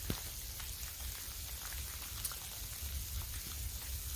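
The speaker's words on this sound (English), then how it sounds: "as you can see, the rain's getting heavier" Heavy rain falling outdoors, a steady dense hiss of countless drops with a few louder individual splats, continuous and fairly quiet throughout with no talk.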